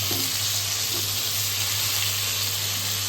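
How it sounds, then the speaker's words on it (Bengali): Chicken tandoori frying in butter in a kadai gives a steady, close sizzle with soft crackle throughout and no talking. "কড়াইয়ের মধ্যে ভালো করে এরকমভাবে বাটার দিয়ে সুন্দর করে ভেজে।"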